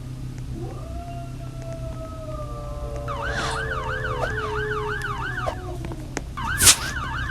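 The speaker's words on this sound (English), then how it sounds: "an ambulance just went by and my dog is howling at it." A passing ambulance siren wails in repeating rising-and-falling cycles at moderate distance while a dog howls along in long drawn-out tones, ending in a short sharper yelp.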